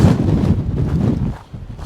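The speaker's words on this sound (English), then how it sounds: "every so often there's just really big gusts coming in" Strong wind gusts batter a microphone on an exposed Scottish mountainside, a loud continuous low buffeting roar that surges and dips, easing briefly before building again.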